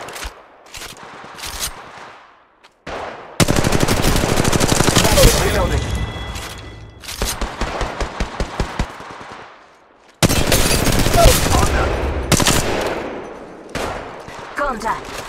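Automatic weapons fire in the Apex Legends video game comes in long, loud, rattling bursts separated by quieter gaps, with other game sounds in between.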